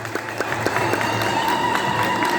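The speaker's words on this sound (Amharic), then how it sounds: "እስቲ አጨብጭቡለት" An audience claps along at a church gathering, a close, steady patter of many hands with a few sharper claps standing out, while voices carry faintly underneath.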